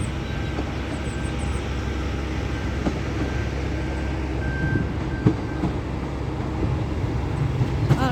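A train rumbles steadily as it pulls in, with a low continuous roar, a faint tonal whine and occasional clanks, no voices.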